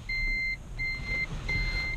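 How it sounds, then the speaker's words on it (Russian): Toyota Prius reversing warning beep: three clear, evenly spaced electronic tones with a steady pitch, each about half a second long, sounding close by over a low idle rumble with no talk. "Это должно снаружи пищать, что мы едем на электроэнергии задним ходом."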